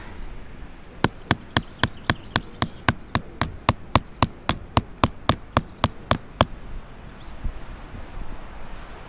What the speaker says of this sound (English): use my mallet and hammer in one of my pegs